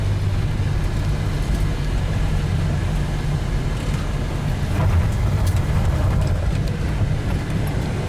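A 1967 Pontiac LeMans cruising on the road, a steady low engine and road rumble with faint wind noise, continuous and fairly loud from inside the car without talk.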